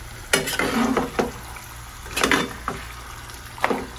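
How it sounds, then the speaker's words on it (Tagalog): A spoon stirs chicken adobo in a sizzling pan, scraping and clinking against the metal in a few irregular strokes over a steady frying hiss. "Bali, hahaluin lang po natin."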